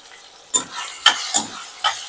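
Sliced onions for a prawn masala sizzle steadily in a pan while a spoon scrapes through them in four quick stirring strokes, close and fairly loud.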